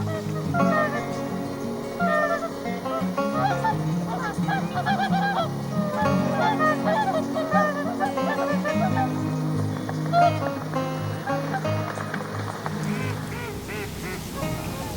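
Swans calling out on open water, a steady stream of honking and quacking cries carrying across the lake under an outdoor background hum, with a man's speech present throughout.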